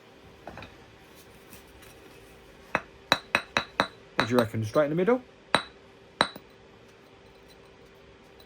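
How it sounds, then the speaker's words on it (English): A new hammer strikes a piece of stone spall several times in quick succession to split it, sharp clinking knocks rising from a quiet background, with brief talk before the blows. "I think just hit it with my new hammer."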